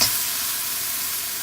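Steady, dense sizzling of chicken frying in hot oil in a pan, a continuous bright hiss close up with no voices.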